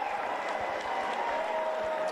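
A home crowd at a Southland Sharks basketball game in the NBL claps and cheers steadily, a dense wash of applause with scattered hand claps and a faint whistle running through it.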